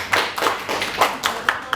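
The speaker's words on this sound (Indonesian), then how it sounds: "Tepuk tangan untuk pertanyaan Pak Joni." A small group of people at a school workshop claps in a few loose, uneven bursts, with about six distinct clustered claps, close and moderately loud.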